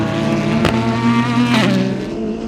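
Race cars at the 24 Hours of Daytona, a loud continuous engine roar with steady harmonic drone and two sharp passes rising and falling, near and alone without talk.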